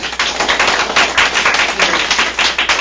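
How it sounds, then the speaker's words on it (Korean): A book forum audience applauds the author of the book, a dense, steady patter of many hands clapping close by for about three seconds with no talk over it. "훌륭한 저서를 발견한 우리 김도운 저자님께 다시 한번 박수를 한번"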